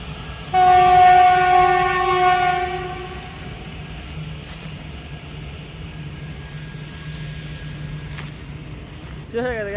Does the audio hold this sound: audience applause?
no